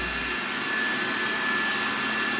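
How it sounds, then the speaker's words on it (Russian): Dreame Bot D10 Plus robot vacuum cleaner with a brushless motor runs indoors with a steady, loud, broadband whirring hum and a faint constant whine, uninterrupted throughout. "Это умный пылесос, он тебя видит."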